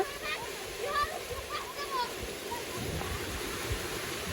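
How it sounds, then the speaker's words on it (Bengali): Children bathe and splash in a rural village pond, with scattered splashes and water churn over a constant watery wash, and distant kids' voices calling out now and then. "খুবই সুন্দরভাবে ওরা গোসল করতেছে অনেক মজা করতেছে"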